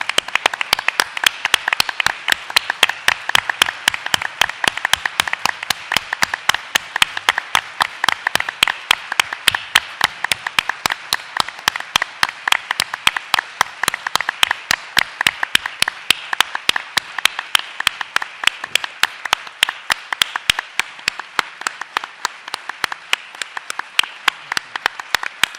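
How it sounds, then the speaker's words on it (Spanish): A large audience at a 30th anniversary book presentation event claps for the genetic data bank workers: steady, dense applause that carries on for the whole stretch and fades only slightly near the end. "yo quiero pedirle a todos los trabajadores del Banco Nacional de Datos Genéticos que se pongan de pie para que los aplaudamos"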